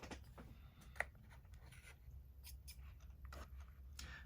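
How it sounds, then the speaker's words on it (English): Ribbon scissors snip the ends of a ribbon bow in a few quiet, crisp cuts, close by against a faint background. "I will trim the ends. Grab my ribbon scissors."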